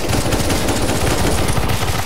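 Rapid automatic gunfire from shooting zombies in a CS:GO zombie escape match, a loud, dense, continuous burst of close shots without pause.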